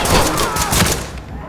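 An M4 rifle in a video game fires a quick, loud series of sharp reports close up, the shots running together before trailing off at the end.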